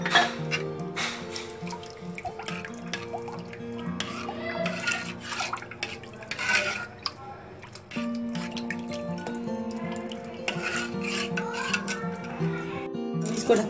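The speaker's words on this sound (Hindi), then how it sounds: "250 मिलीलीटर पानी इसमें और डाल दूंगी मैं।" Water runs and splashes steadily into a bowl of batter for dahi bade, about 250 millilitres poured over several seconds, with a continuous pouring sound and brief changes in flow.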